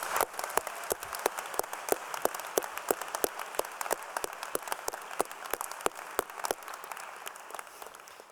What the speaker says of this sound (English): one more massive round of applause for the wonderful performance of all of our graduating students